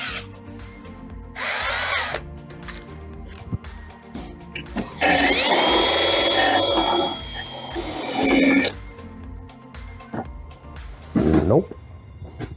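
A stainless steel wire brush on a power drill scrubs coating off a brake part from a BMW E92, running in several loud, harsh bursts of a few seconds each with quieter handling noises between.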